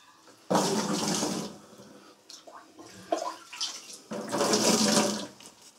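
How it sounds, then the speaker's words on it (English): A sponge soaks up leftover water in a toilet bowl and is wrung into a bucket, giving two loud splashing, streaming pours separated by quieter drips and trickles, close by with no talk. "So I'm going to take a sponge, and I got my little handy bucket here, and just get this water out of here."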